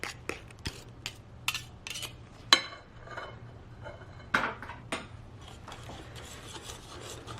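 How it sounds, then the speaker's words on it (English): Banana and cocoa powder stirred together in a bowl with a utensil for vegan, gluten-free, oil-free chocolate banana bread: soft scraping and rasping strokes with occasional sharp clinks against the bowl, close and quiet, without talk. "Might take a little while to get the cocoa powder to kind of mix in with the banana"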